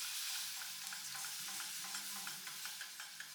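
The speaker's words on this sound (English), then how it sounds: "gradually whisk in 2 cups of whole milk" A whisk taps rhythmically against a pan as whole milk is worked into a hot flour roux, with a soft sizzle underneath. The sound is quiet and close, with no talking.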